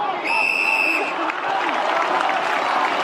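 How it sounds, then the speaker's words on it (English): Carlton supporters clapping and cheering at an AFL football match, a steady wash of crowd noise filling the stadium, with a brief whistle early on. "You can hear the applause coming from the Carlton faithful."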